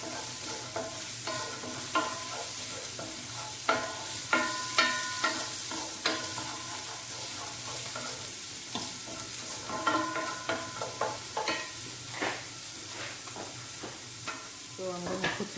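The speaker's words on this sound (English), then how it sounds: "Now I'm gonna put in my garlic, ginger, then onions," Garlic, ginger and onions frying in a pan for citrus chicken, a steady sizzle broken by repeated scraping and stirring clicks of a utensil, close and clear.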